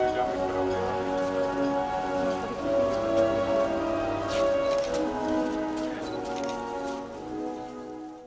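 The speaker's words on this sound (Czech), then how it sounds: "na šumavských kopcích padal déšť se sněhem" Rain mixed with snow falls on hilly countryside, a steady soft patter of drops spread evenly across the clip, with faint tonal background sounds underneath.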